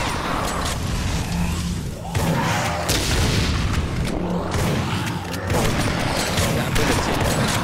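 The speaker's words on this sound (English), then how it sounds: "Grenade again" Grenade blasts in the Dead Effect 2 video game, heavy booming explosions with crackling debris, several bursts in succession over a loud continuous din of gunfire and rumble.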